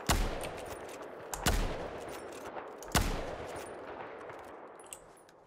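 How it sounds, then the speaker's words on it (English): A sniper rifle in the Battlefield 4 game fires three loud, evenly spaced shots, each with a long ringing tail that fades, with faint mechanical handling clicks in between. "Let's see how fast the reload on the actual shells is here."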